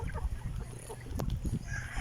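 Native chickens cluck softly and steadily at a poultry farm in Lapulapu City, Cebu, their overlapping low calls close by with a brief sharper squawk partway through.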